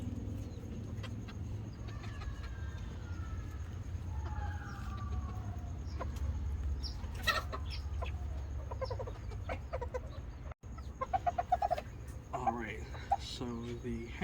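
Miniature hens cluck and call in short, scattered bursts near and far in a backyard coop, with someone talking over them throughout.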